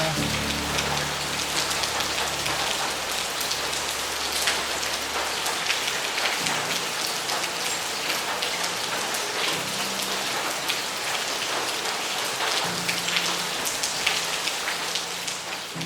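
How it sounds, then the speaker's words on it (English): Heavy rain pours steadily throughout on a mountain hike in the Rwenzori range of Uganda, a dense continuous hiss of drops pattering on surfaces close by, with low rumbling tones underneath. "It starts raining. Heavily. The rain has started, so we are changing gear."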